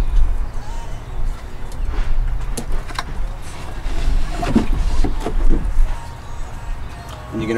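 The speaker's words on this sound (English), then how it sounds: "when you pull it out, the oil will start coming." Old engine oil drains out of a John Deere in a steady, close liquid rush with some splashing, while a voice speaks over it.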